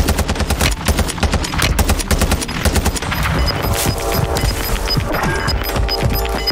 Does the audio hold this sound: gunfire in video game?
yes